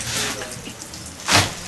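Water runs from a tap to soak a freshly bleached t-shirt, a steady close splashing rush with a louder surge of flow near the end, and no talking.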